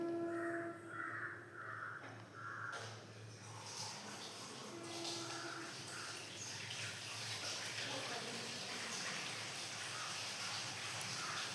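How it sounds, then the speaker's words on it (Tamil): A pot holding about three litres of water comes to a rolling boil for chicken biryani, giving a steady, dense bubbling hiss with a few faint bird caws in the background. "தண்ணி நல்லா கொதிச்சு வருது பாருங்கள்."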